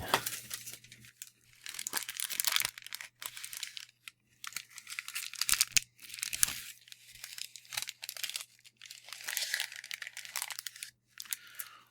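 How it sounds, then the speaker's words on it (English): Paper is crumpled close to a binaural microphone as an ASMR trigger, producing repeated bursts of crisp crinkling and crunching separated by brief quiet gaps, with no talking. "And all sorts of binaural triggers, like maybe paper crumbling."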